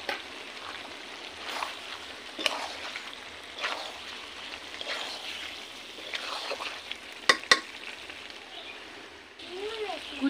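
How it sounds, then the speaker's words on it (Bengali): Chopped tomatoes, potatoes and other curry ingredients for a chicken dish fry in a pan. A steady sizzle runs under occasional scraping stirs and a few light clinks, with a voice talking over it. "কেটে রাখা টমেটো, এবার আমি ভালো করে নেড়ে নেবো।"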